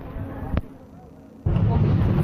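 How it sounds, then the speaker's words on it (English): An explosion during a terrorist attack on a beach in Tunisia: one sharp, distant bang stands out over the shoreline ambience, and a surge of loud, rumbling broadband noise follows a moment later. "That was an explosion"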